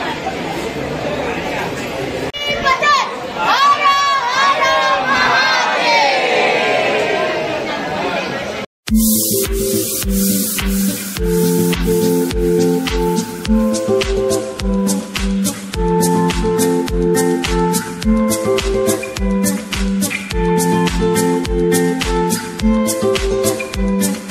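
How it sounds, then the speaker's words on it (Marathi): Devotees crowd Trimbakeshwar temple in Nashik, producing a dense, continuous hubbub of many voices. After a brief cut, the crowd noise gives way to a loud, steady rhythmic pulsing. "बघा किती गर्दी"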